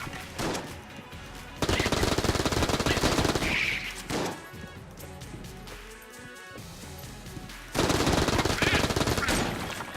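Guns fire in the Enter the Gungeon video game in dense rapid bursts, loud stretches of automatic shooting broken by short pauses and single shots.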